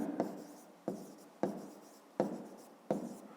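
A pen writing numbers on paper during a fifth-grade math exercise: five distinct scratchy stroke bursts, each starting sharply and fading, spaced under a second apart, close and fairly quiet, with no talking.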